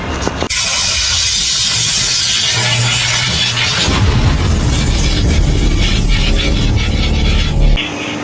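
Fly ash brick machine running with its pan mixer churning soil, a loud continuous industrial clatter and roar with grinding texture, steady throughout and cutting off sharply near the end.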